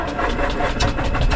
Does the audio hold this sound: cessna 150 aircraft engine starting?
yes